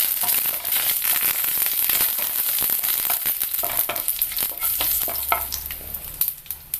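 Curry leaves and dried red chillies crackle and sizzle loudly in hot oil, with steady spattering pops and occasional stirring scrapes close by.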